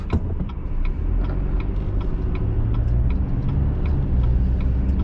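Inside a car driving through traffic in Gig Harbor, Washington, a steady low engine and road rumble runs throughout, with a regular ticking like a turn signal clicking over it.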